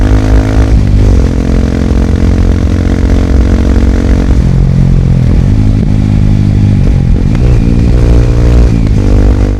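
A loud Kawasaki KLX 230 dirt bike with a Norifumi aftermarket exhaust runs close by, idling with a rough throaty exhaust note and rising into several revs, its pitch sweeping up and down.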